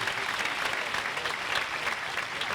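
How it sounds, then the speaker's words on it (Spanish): Dense, sustained applause from an audience at a national political gathering, loud and even throughout with no speech on top. "Aplausos, hay aplausos"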